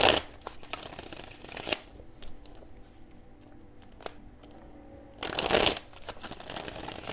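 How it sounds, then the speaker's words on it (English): Oracle reading cards are shuffled close by, with bursts of riffling and soft slapping at the start and again later, separated by quieter handling sounds and light rustling. "One more shuffle, please."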